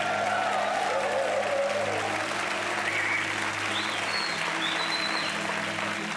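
A studio audience on a French game show applauds continuously, a dense, even wash of clapping with faint background tones underneath.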